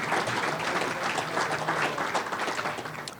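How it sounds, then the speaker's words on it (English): Audience applause at a community sports awards ceremony, a sustained round of clapping from a sizable crowd that swells and then starts to fade toward the end. "Let's give them one more round of applause."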